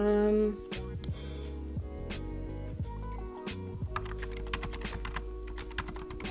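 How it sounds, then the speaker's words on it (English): Rapid typing on a computer keyboard, close and clear, a steady patter of key clicks with a louder thump at the start and a low hum underneath. "I was typing on the wrong page."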